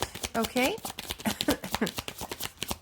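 Tarot cards are gathered and shuffled in a rapid run of soft, papery riffles and taps close by, while a person talks briefly over the start.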